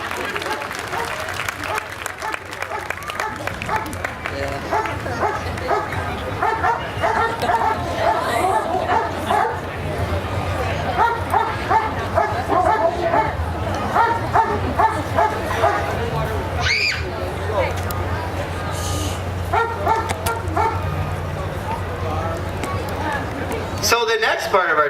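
Police bomb disposal canine puppies bark and yip in bursts at an outdoor demonstration, with people chattering and clapping nearby and a steady crowd murmur underneath.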